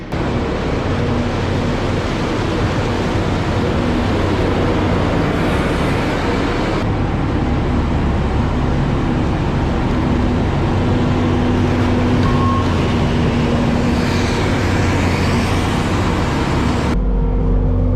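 A tractor-mounted bed rotor tiller fluffs and smooths manure-scraped cow beds in a dairy barn, giving a loud, steady engine drone and churning rumble that runs unbroken throughout.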